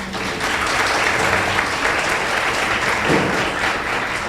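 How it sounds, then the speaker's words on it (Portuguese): Sustained applause from a lecture audience welcoming a speaker, steady clapping filling the room for several seconds with no voices over it. "Salva de palmas"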